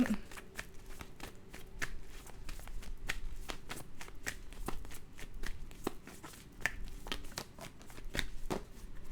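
A deck of tarot cards is shuffled close by in a quick, steady series of crisp riffling snaps and slaps. The run is continuous, with faint talk in the background.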